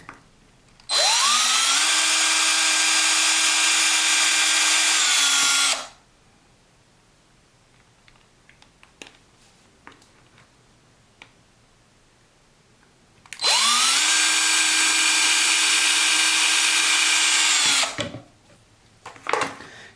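A power drill fitted with a 1/16 bit bores into a plastic toy ball joint in two loud, steady whining runs of several seconds each, spinning up and winding down, separated by quiet handling noises.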